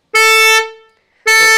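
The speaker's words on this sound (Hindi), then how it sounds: "इसकी वजह से एक हॉर्न नहीं बज रहा है। बजाइयो" Two loud, blaring Creta car horn honks on a Thar Roxx, separated by a short pause, the first held about half a second before trailing off; only one of the pair of horns is sounding.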